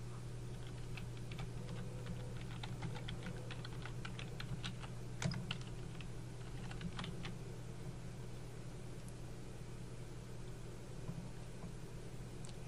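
Quiet computer keyboard typing, a string of light keystroke clicks in an uneven rhythm over a steady low hum.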